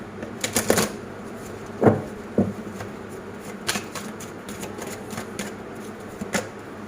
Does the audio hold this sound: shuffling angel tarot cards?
yes